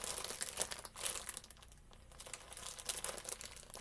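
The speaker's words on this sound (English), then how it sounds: "I'm going to put the shell in the bag, zip it up a little bit, and then squeeze the air out of it" Plastic zip bag holding seashells being zipped partly shut and squeezed to push the air out, giving steady close crinkling and rustling with brief crunchy bursts throughout.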